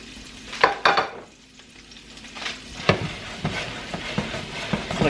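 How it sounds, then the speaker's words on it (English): Red potatoes frying in a pan, a steady sizzle with sharper crackling bursts and clattery stirring scrapes throughout, close and moderately loud. "Let's go ahead and throw our potatoes in there"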